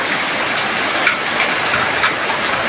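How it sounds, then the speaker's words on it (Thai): Heavy rain pours steadily on a rural village in Surin province, a loud, dense, unbroken hiss of drops on surfaces with no pause. "ฝนตกหนักพอดีเลย"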